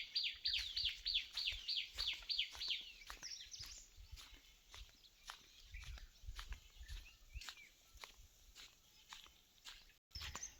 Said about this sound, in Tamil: இந்த குருவிகள் சவுண்டு, இந்த குயில் சவுண்டு, எல்லா சவுண்டும் கேட்குறதுக்கு வேறு லெவலாக இருக்குது